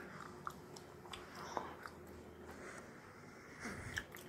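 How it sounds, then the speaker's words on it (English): Gum is chewed close to the microphone in a quiet room, giving soft wet smacks and squishes at an irregular pace, with a few sharper clicks standing out. "Chewing gum."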